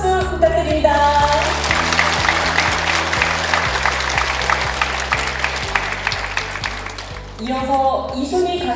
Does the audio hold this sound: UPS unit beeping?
no